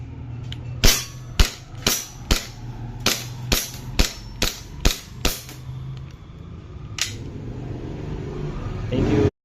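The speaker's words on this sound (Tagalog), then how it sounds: "Fire natin siya, Glock 17 Gen 4." An airsoft Glock 17 Gen 4 pistol fires ten sharp, evenly spaced shots at close range in quick succession, followed by a single later shot and a rising rumble of handling noise.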